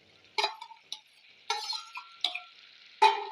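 Squid stirred into curry gravy in a pot, heard as a few separate scraping clinks of a spoon against the pot with pauses between them, close and fairly quiet with no talk.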